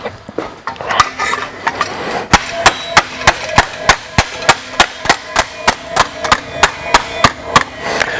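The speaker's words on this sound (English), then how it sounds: "I'm still using my leverage to pull this piece down and then whacking it" Sharp metallic hammer blows on a stainless steel exhaust tip, struck in a steady rhythm roughly every third of a second, close and loud with quiet gaps between hits.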